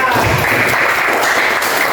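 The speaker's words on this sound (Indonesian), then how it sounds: "tepuk tangan untuk Repan." Dense, steady applause from a crowd fills the whole moment, loud and continuous without a break.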